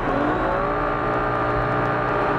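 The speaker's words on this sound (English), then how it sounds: "Dustin and Shane must push their Can-Am Maverick Turbo hard enough to be fast" A Can-Am Maverick Turbo side-by-side engine roars at sustained high revs during a desert off-road race, a loud, steady drone with no letup.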